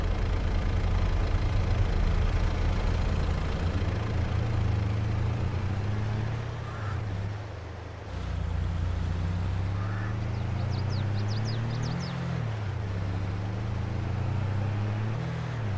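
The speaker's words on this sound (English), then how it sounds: "Start the engine first." A tractor engine in Farming Simulator 22 starts and settles into a steady, loud low rumble, its pitch shifting as it revs and idles, with a brief dip partway through before it picks back up.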